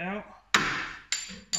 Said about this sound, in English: Now I'm going to get my copper hammer and just tap that bolt.